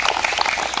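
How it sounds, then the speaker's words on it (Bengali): Quick burst of applause for two children during a classroom lesson, with brisk overlapping claps filling the whole short moment at close range. "জোর হাততালি দুজনের জন্য"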